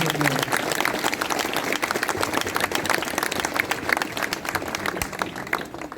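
Sustained crowd applause at an outdoor protest outside the Medical Council office, dense clapping and a few cheers filling the whole stretch at steady volume, with voices mixed in.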